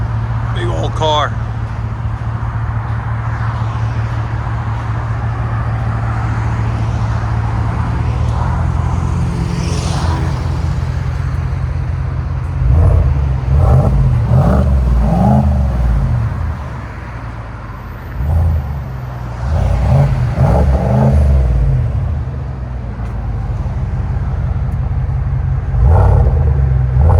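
A Cadillac Escalade's 6.2L V8 with a muffler delete idles with a deep exhaust rumble, then revs hard in two or three bursts of rising and falling roars, close by.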